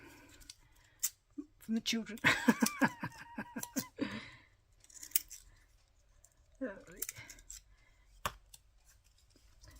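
Quick, rhythmic snips of scissors cutting, a burst of clicks in the middle, with a person talking before and after.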